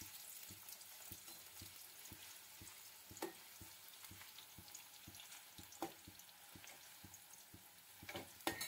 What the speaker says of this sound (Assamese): অলপ কাটি লোৱা আলুৰ স্লাইচ দি দিছোঁ। এতিয়া এইখিনি ভালদৰে ফ্ৰাই কৰি ল'ম